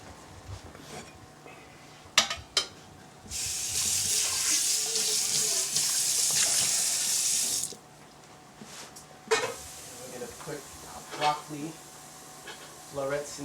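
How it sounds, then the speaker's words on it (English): Tap water runs into a pot in a home kitchen for a few seconds, a steady hiss under a voice talking, with clinks of the pot before and after. "let's rinse this pot out"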